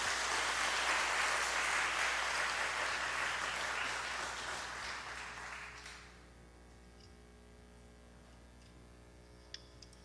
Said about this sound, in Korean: 박수로 여러분 축복해 주시기 바랍니다.